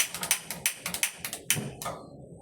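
A gas stove igniter clicks repeatedly in quick, uneven bursts, close and crisp, as the burner is lit for frying fish, with no talking.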